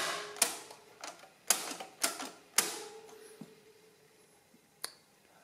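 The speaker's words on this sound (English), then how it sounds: "You can also clear the keyboard yourself by pushing this button." A Monroe Model F mechanical calculator's keyboard clear button is pressed, giving a series of sharp metallic clacks and snaps, about six distinct hits that ring briefly, heard up close with no talking.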